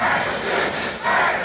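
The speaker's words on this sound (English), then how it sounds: "the crowd is cheering on his son. You can hear it from the television" A television crowd cheering loudly in a broad, steady roar that swells slightly near the end of a brief moment, without any distinct voices standing out.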